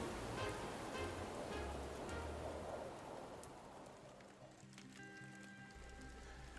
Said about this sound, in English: As the windstorm blazes on, you can feel the air get thicker with rain, as now it starts to sprinkle.